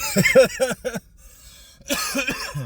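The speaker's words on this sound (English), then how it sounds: "it's making me cough now" A person coughs in a quick run of several harsh bursts, then falls quiet before speaking resumes; the coughs are close and loud against a silent background.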